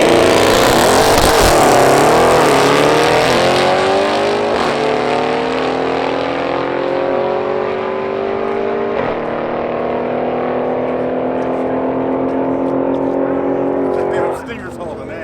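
A mostly stock Kia Stinger with secondary cat delete drag racing a built-engine Mazda Speed 3 on a quarter-mile strip, loud sustained engine roar climbing through gears with shift breaks, ending abruptly.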